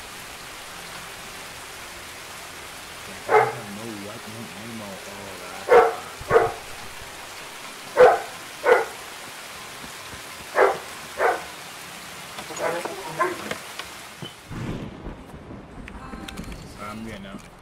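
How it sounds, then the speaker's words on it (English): Heavy rain pours steadily in the shooter game Escape from Tarkov, a constant broadband hiss under players talking, punctuated by several sharp footstep or item thumps before the downpour cuts out near the end. "Whoa, it's raining hard."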